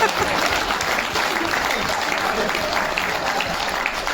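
An audience at a Hindi comic poetry recital (kavi sammelan) in a hotel bursts into loud, dense, continuous applause throughout.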